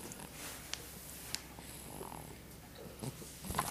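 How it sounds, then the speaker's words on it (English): A man snores softly indoors, slow rasping breaths repeating in a low, steady rhythm, close by but faint, with small rustles in between. "I can't believe he's snoring."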